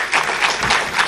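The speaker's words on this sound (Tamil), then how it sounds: "நீங்க பெண்கள் கைத்தட்டக்கூடாதம்மா" A lecture audience of women claps together in a short, dense burst of applause that stays steady and fairly close.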